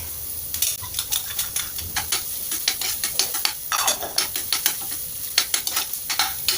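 Garlic sizzles in a pan as it fries toward golden brown, with a crackling, hissing bed broken by repeated scraping stirs of a utensil against the pan, close and fairly loud.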